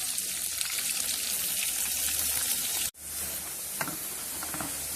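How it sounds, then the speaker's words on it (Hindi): Onions sizzling in hot ghee, a steady loud frying hiss that runs throughout, briefly dropping out once before resuming with crackling pops, no voices. "ये देखें जी, हमारा घी गर्म हो गया। अब हम इसमें प्याज डाला जा रहा है।"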